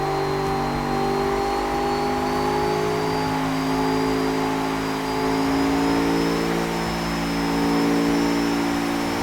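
A turbocharged engine holds a high, sustained rev near 7,000 RPM at a steady pitch, loud and close, with a faint whine rising slowly above it.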